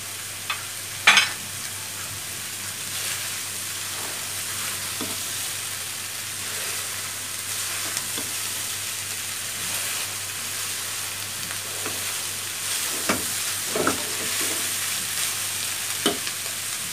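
Food frying in a pan with a constant soft sizzle, broken by occasional scraping stirs and a few sharp utensil knocks against the pan, close and moderately quiet.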